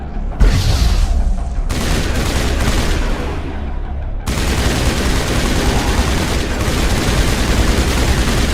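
A grenade explosion in Mass Effect lands amid loud, continuous combat noise, with a sudden, dense burst of rumbling blast and gunfire that stays close and heavy to the end.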